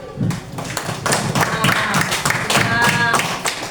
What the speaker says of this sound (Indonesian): Boleh tepuk tangan yang meriah untuk